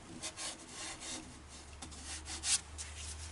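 Abrasive sanding on a hard maple crotch bowl spinning on a wood lathe, a steady soft rasping rub with gentle surges and one brief sharper scrape, over a low constant motor hum.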